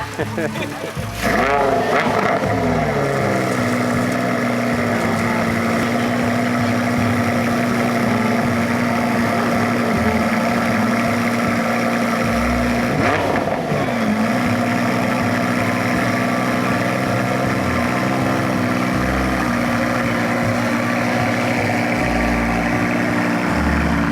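A classic car at a local car show in Tokyo idles steadily and loudly up close, the engine tone rising briefly as it backs off a trailer; people talk over it now and then.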